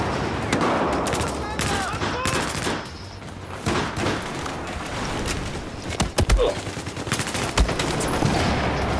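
Gunfire from a trench in Battlefield 4 cracks in rapid automatic bursts and scattered single shots, close and loud, with a few heavier thumps near the end, under a player talking.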